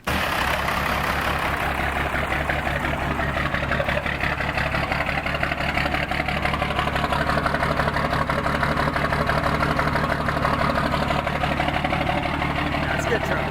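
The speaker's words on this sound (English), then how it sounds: "So this is a Chevy with a 12-valve Dodge Cummins motor." A 12-valve Dodge Cummins diesel swapped into a Chevy truck idling in a fabrication shop, a loud, steady, close rumble with a fast rhythmic clatter throughout.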